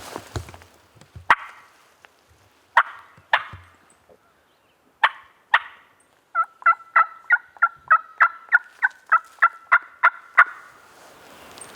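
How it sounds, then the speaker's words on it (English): Wild turkey gobbling on public land in Tennessee, a few scattered calls followed by a rapid rhythmic run of a dozen sharp, clear notes, fairly close in an otherwise quiet outdoor setting. "From where he gobbled the first time we heard him, he's moved up here some."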